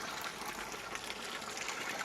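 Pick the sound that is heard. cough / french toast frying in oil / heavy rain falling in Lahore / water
water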